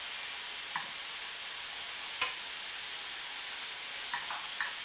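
Homemade chicken nuggets fry in a warped pan, a steady even sizzle under a few faint ticks and light taps from turning, with no voices.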